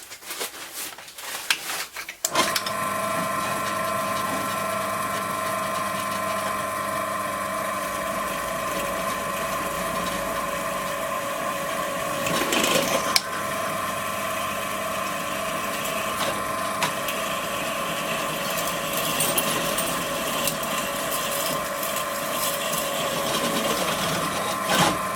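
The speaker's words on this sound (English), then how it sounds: "we're drilling some aluminium" A drill bit cuts steadily through aluminium for over twenty seconds, a continuous whirring motor tone with a gritty, slightly wavering grind, starting after a few brief knocks and clicks.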